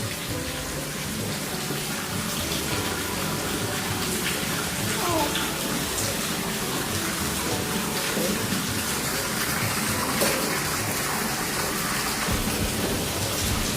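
Heavy monsoon-style rain pours steadily during a power cut, a dense continuous roar of water on surfaces with faint rumbles, while voices talk quietly beneath it.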